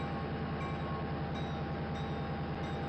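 A GP35 diesel locomotive in the Trainz rail simulator rumbles along with a steady, rhythmic low drone of engine and wheels, constant and fairly loud with no voices.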